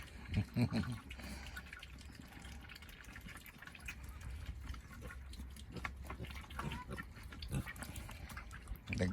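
Pigs grunting and snuffling while feeding alongside ducks, with wet slurping and splashing, steady and close, some faint voices in the background.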